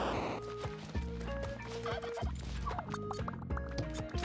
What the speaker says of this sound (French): Ah, allez le dindon.